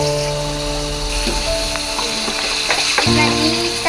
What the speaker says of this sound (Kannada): ಫ್ರೈ ಮಾಡ್ತಾ ಮಾಡ್ತಾ ಹಾಗೆ ಒಂದು 2 ಟೇಬಲ್ ಸ್ಪೂನ್ ಅಷ್ಟು ತುಪ್ಪ ಹಾಕೊಳ್ಳೋಣ